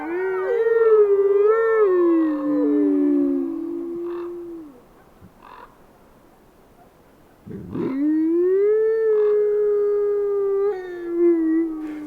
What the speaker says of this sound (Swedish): Det här är valparna som ylar långt bort i taigaskogen. Och plötsligt svarar alfaparet.